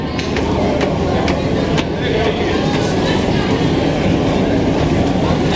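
A train at Gare du Nord station in Paris gives a steady loud rumble with light rhythmic clicks of wheels on rail, filling the whole stretch with no pause.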